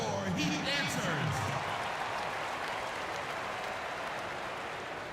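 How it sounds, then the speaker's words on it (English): Crowd applause fills an NBA 2K17 arena during a Charlotte Hornets vs Miami Heat game, a dense wash of clapping that slowly fades, with a voice speaking over the opening second. "Give them a round of applause"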